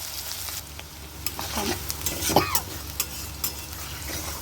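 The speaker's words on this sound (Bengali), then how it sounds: "সামান্য একটু লাল লাল করে ভাজবো।" Onion and chopped chillies frying in a pan for a poppy-seed and yoghurt soybean dish, with a steady close sizzle, scattered stirring scrapes and small spatters.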